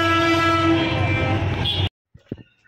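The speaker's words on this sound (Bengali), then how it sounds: "অটোতে ট্রেন যাচ্ছে" A train at Khilkhet in Dhaka sounds its horn in one long, loud sustained blast close by, with rumbling rail noise, then cuts off abruptly into near silence with a few faint knocks.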